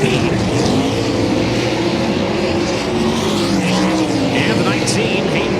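A USAC sprint car races around Volusia Speedway Park's dirt track at speed, its loud engine roaring continuously with rising and falling pitch under an announcer's commentary.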